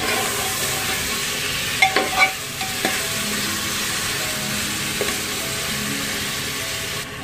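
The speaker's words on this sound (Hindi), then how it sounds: "मटन ऐड करने के बाद इसमें इसको हम 5 to 6 मिनट्स के लिए अच्छे से हाई फ्लेम पे भूनेंगे।" Mutton pieces frying on a high flame for Hyderabadi mutton salan produce a loud, dense, steady sizzle with a few stirring clinks and scrapes partway through, no voices.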